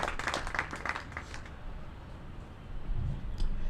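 Applause at a media awards ceremony: a crowd claps in a dense burst that thins out after a second or two, leaving scattered faint claps and room murmur.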